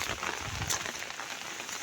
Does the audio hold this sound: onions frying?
no